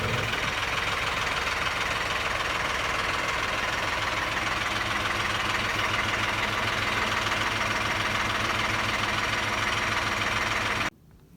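John Deere 310D backhoe tractor engine idling steadily with a low, rough, knocking rumble, continuous and close for about eleven seconds before cutting off abruptly near the end.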